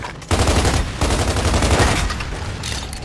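Rapid automatic gunfire from Gears of War 2 rattles in dense, loud bursts, a brief pause after the first fraction of a second and then continuous fusillade with a short break near the end.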